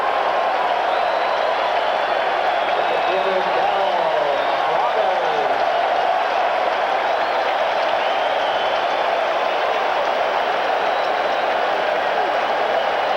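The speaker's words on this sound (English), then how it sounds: "the crowd responds with a tremendous greeting for Darryl Strawberry" A baseball crowd at a Mets home game greets Darryl Strawberry with sustained cheering and applause, a broad roar that continues for many seconds, with a broadcast commentator talking over it.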